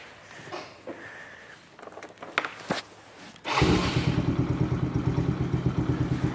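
Yamaha Raptor 90 ATV being started after a battery replacement: a few clicks and clattering handling sounds, then the small engine fires and settles into a fast, rhythmic, close putter at idle.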